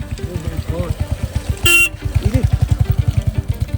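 A motorcycle rides along an icy, snow-covered mountain road with black ice between Tawang and Dirang. Its engine throbs steadily and close by, broken by a short horn blast midway, with voices talking over it.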